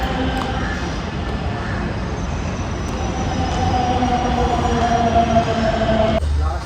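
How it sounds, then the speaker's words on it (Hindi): A metro train rolls into a station with a loud, continuous roar, wheel rumble and a faint squeal from the wheels, ending in a sharp clunk. "मेट्रो आ गई, चलते हैं, पहुँचते हैं पहले।"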